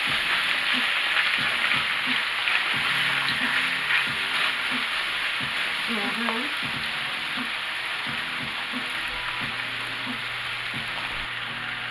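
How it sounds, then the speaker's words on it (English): Beef, mushrooms and onions fry in a hot pan with a continuous crackling sizzle, while a utensil scrapes and knocks against the pan at irregular intervals as they are stirred and browned. "We're going to stir these around and brown these up."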